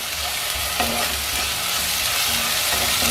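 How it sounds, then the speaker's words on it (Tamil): Masala sizzling and being stirred in a hot pan while it fries down for a butter beans gravy, a steady loud crackle with scraping stirs, close up and without talk. "நல்லா பச்சை வாசனை போகிற வரைக்கும் வதக்கணுங்க."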